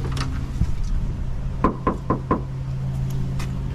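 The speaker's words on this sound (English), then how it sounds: "knock one more time just to make sure no one's here" Knuckles rap four times on the front door of a house with a dry, leaf-covered front yard. The knocks come in a quick, even series, close and sharp, over a faint steady hum, and no voices are heard.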